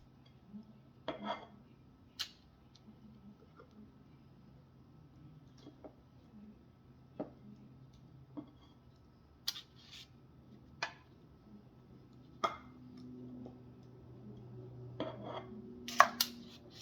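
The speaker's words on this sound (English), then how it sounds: "I'm just going to portion this out into the muffin pan" Coconut fruit muffin batter being portioned into a muffin pan, with sparse light metallic clinks and taps of a utensil against the pan, spaced irregularly over a quiet kitchen background.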